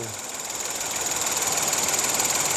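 A car engine running with the bonnet open gives a steady, close mechanical rattle and rapid knocking, a fast even ticking over a constant engine hum, with no talking.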